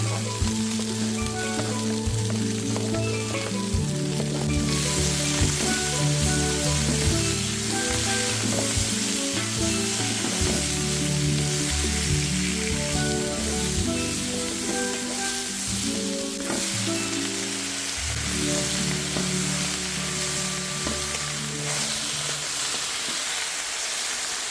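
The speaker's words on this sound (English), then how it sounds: "Add the carrots first and let it get a good fry" Carrots and mixed vegetables stir-frying in a big pot for a tofu Buddha's delight, with a steady loud sizzle and repeated scraping stirs throughout, and no talking.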